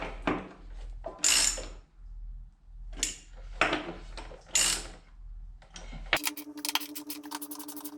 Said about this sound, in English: Let's tighten these bolts up.